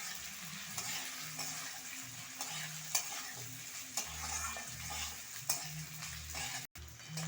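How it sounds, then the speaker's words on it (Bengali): Onion and capsicum fry in a pan for restaurant-style dry chili chicken, a steady close sizzle with soft rhythmic stirring scrapes throughout and no voices. "ক্যাপসিকাম আর পেঁয়াজ দিয়ে আমি 1 মিনিট মতো ভেজে নিয়েছি।"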